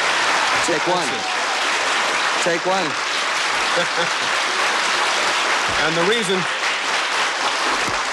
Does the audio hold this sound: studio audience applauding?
yes